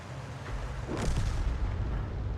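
A single heavy tank gun shot in a tank video game, a deep booming blast that rolls out and lingers over a steady low engine rumble.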